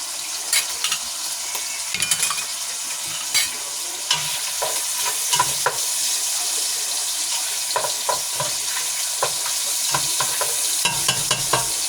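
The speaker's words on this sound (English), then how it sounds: "I'm not going to let it fry that much because the cabbage is going to start frying" Sauce and cabbage fry in a pan with a continuous sizzle while a spoon stirs and scrapes, giving repeated clinks and scuffs at an uneven rhythm, close and fairly loud, with no voices.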